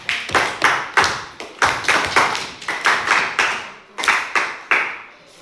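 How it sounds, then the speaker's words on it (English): Schoolchildren in a classroom clap together in short rhythmic bursts, roughly a dozen sharp unison claps in repeating groups, close and loud. "A clap for that."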